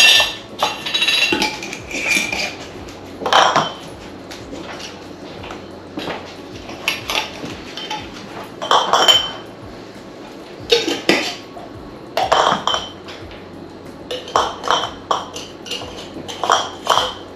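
Glass Mason jars and spare metal lids clink and clatter while being packed for a move, in close, loud bursts of chinks and knocks separated by short pauses.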